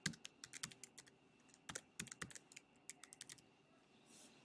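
A username is typed on a computer keyboard, a quiet, close run of sharp key clicks in uneven bursts, pausing briefly before a few final taps.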